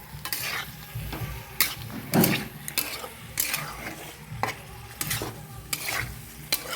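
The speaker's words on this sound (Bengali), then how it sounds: "একসঙ্গে দিয়ে ভালো করে নেড়ে দিচ্ছি যাতে গোটাটা ভালো করে ঢুকে যায়" Fried cauliflower and potato being stirred with spices in a pan for a home-style cauliflower curry, a continuous close sizzle broken by repeated sharp scrapes and knocks of a spoon against the pan, with no talking.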